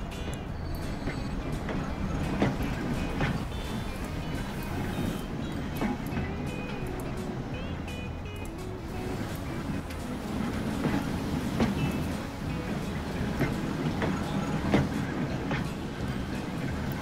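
Tram rolling along tracks in the Transport Fever railway building game, a steady rumble of wheels and carriage noise with periodic clacks, continuous and moderately loud.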